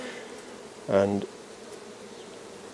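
Honey bees buzz in a nearly full hive box on a farm, a short, close burst of buzzing that stands out over quiet background, with a brief word spoken.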